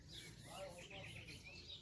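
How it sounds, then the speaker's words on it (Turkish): A nightingale sings faintly in the background of a village countryside scene, thin chirping phrases drifting over a steady low hiss without any talk. "keçi meylemesinin yanında bir bülbül sesi de geliyor"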